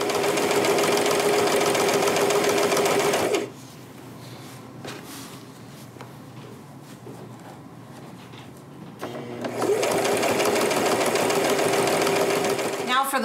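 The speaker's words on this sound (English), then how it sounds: "we're gonna go ahead and stitch that from the other side" A sewing machine stitches fabric for a wrap skirt in two loud, fast, steady runs, separated by a quieter stretch while a person talks.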